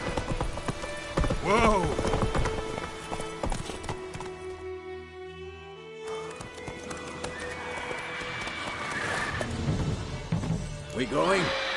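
A horse gallops in The Witcher 3, its hooves clip-clopping loud and near with bursts of neighing, under game sound, a shout and other voices.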